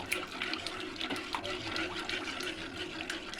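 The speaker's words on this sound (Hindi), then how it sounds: "ये मैंगो फ्लेवर का है और इसे हम धीरे धीरे एक बार डालेंगे, फिर इसे हम चलाएंगे अच्छी तरह से।" Mango-flavoured custard mixture poured slowly into a pot, a steady soft liquid trickle and splash running continuously at low level with no talk.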